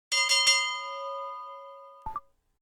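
A bright cartoon bell rings three quick strikes in an answering machine message, the tones ringing on and fading, followed by a short double electronic beep.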